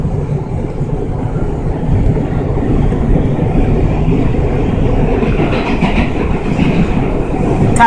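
A train rolls along the rails with a steady, loud rumble heard from inside the car, plus a clickety-clack rhythm and a faint higher whine toward the end. Nobody speaks.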